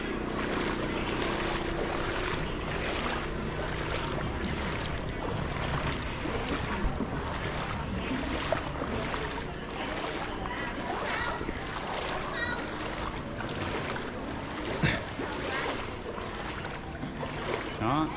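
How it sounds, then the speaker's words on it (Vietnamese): A small wooden boat is towed along a national highway in Cần Thơ that has flooded after a storm. Steady water sloshing and rushing fill the scene, with voices talking nearby throughout. "trên đường lộ mà kéo cái ghe vậy đó"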